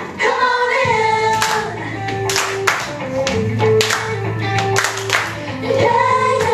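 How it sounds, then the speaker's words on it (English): Hands clapping in rhythm along with an upbeat sing-along song, sharp regular claps over the music with singing voices. "Everybody come and clap your hands"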